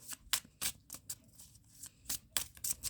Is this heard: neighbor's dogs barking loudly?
no